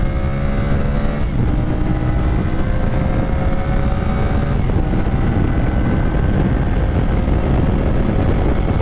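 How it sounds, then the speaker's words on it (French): A CF Moto 450CL-C motorcycle engine runs on the road, a loud, steady, slightly raspy drone with rising and falling engine tones as it accelerates. The engine is heard alone, without talk. "Très sympathique ce petit moteur."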